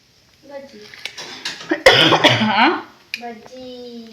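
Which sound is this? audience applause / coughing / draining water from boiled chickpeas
coughing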